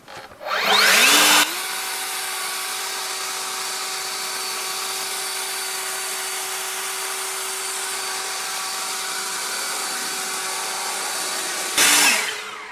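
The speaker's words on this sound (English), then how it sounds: "all you need is a proper leaf blower" A leaf blower clearing snow off a car runs as a steady, loud whooshing drone for about ten seconds, with brief surges as it revs up at the start and again near the end, no voices.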